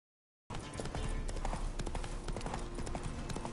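A horse gallops in The Witcher 3 video game, hooves pounding in a fast, steady rhythm right after a brief silence, close and continuous under low ambient game sound.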